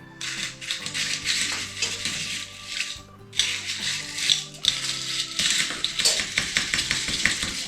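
A caipirinha mixture is stirred in a glass, giving close, busy clinks and scraping taps in irregular bursts, with a brief pause midway before the stirring resumes.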